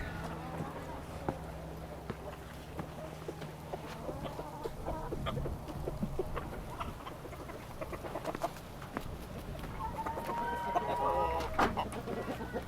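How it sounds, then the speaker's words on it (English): Chickens in a farm coop cluck and call intermittently at close range, with scattered scratching and shuffling over a steady low hum, and a person speaks occasionally through the scene. "Take care of the indoor chickens."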